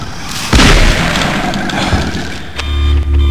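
A shotgun blasting at an alligator in a video game: a loud, deep boom with a burst near the half-second mark, then sustained rumbling game noise and low engine-like drone.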